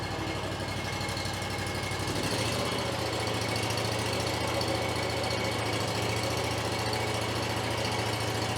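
A Hustler Fastrak zero-turn lawn mower, 203 hours on it, just started after sitting through winter, runs at a steady idle with an even, close, loud engine drone that settles into a lower throb partway through, with no talking.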